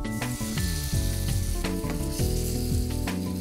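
Tomatoes go into cooked masala for bottle gourd kofta curry, a loud close sizzle of frying with stirring scrapes of a spoon in the pan.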